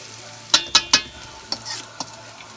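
Heaping spoonfuls of Polish potato pancake batter dropped into hot oil, with three sharp taps and clinks followed by softer knocks over a faint sizzle, close up and without speech.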